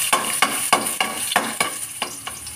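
Garlic sautéing in a pan for ginisang kangkong, with rhythmic stirring strokes scraping through a steady sizzle, about eight spatula passes at a close, even pace.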